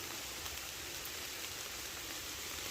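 Rain falls steadily on the ground in a Carolina rainforest during gold prospecting, a constant close hiss of drops with no breaks and no voices.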